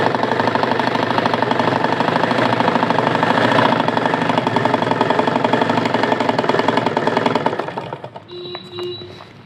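A sewing machine stitches cloth for a saree petticoat, a loud close rapid mechanical chatter running steadily for several seconds before slowing and fading into a few lighter clicks and a brief whine.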